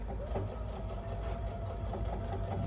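A sewing machine stitches through a bulky quilt block for an anniversary sampler, running steadily and close at a moderate level for the whole stretch with its rapid, even needle rhythm and low motor hum.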